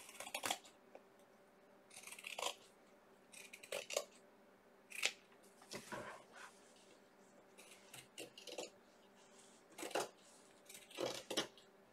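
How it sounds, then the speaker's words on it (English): Scissors snip along the edges of a Mod Podge craft decor piece, giving irregular crisp cuts and clicks in short bursts, fairly close and moderately quiet, with no talking. "I'm going to trim this up a little bit with my scissors."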